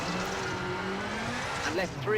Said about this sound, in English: So a little bit of handbrake just to help get the car around.